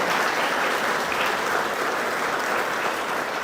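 A church congregation clapping steadily, a dense sustained round of applause at moderate distance with no speech over it.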